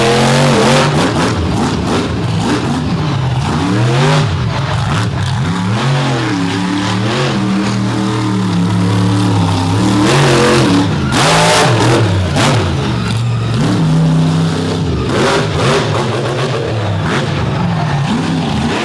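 A big blue Ford truck revs hard during a drag race run, a loud sustained engine roar with shifting pitch sweeps and bursts, close and continuous throughout.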